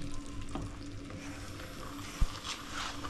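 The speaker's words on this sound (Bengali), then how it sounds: "এখন চিকেনটা দিয়ে দিলাম। চিকেনটাকে ভালোভাবে কষিয়ে নেব।" Chicken pieces sizzle in a pan with cinnamon, cardamom and bay leaf, giving a quiet, steady crackling hiss with a soft stirring scrape and one brief knock near the end.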